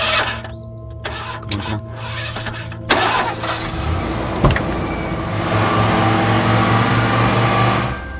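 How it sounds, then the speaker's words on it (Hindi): A car engine is cranked with whirring starter bursts, then catches and settles into a steady running hum. "स्टार्ट हो गई यार, स्टार्ट तो हो गई यार"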